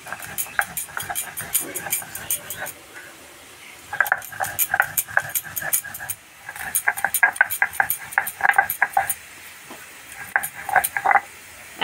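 Potatoes and peanuts fry in a pan under a low sizzle, broken by bursts of clattering and scraping utensils that come and go in uneven rhythms.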